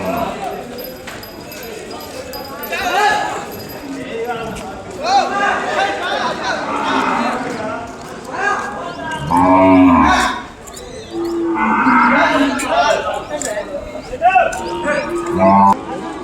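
Pure Gir cows and calves low repeatedly at a busy Kodad cattle market, with hoof clops and scattered moos under continuous nearby talk.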